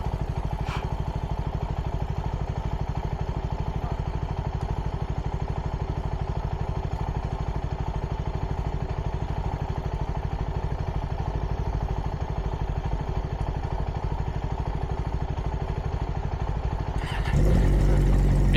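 A CFMoto 300nk motorcycle on its stock exhaust, a steady, loud engine drone with a buzzing mechanical clatter held throughout, ending in a burst of heavy wind rumble.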